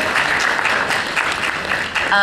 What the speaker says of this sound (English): So round of applause for her.